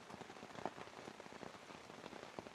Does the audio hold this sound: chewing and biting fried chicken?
no